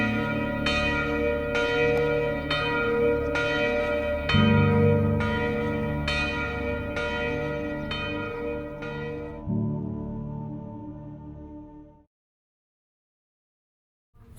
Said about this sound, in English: still being used every day to ring the bells